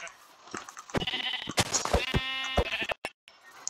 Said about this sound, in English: Alright, so there's a sheep over here.